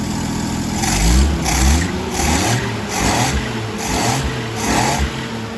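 A Jeep CJ-7 with an EFI engine drives on a test run, its engine revving up and easing off in a repeated rhythm of surges, heard from inside or close by with steady road noise underneath.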